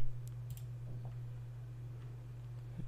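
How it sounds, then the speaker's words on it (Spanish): Computer mouse clicks during software installation on a PC, a few sharp, close clicks near the start and scattered lighter ticks later, over a steady low electrical hum. "le daremos clic aquí y listo"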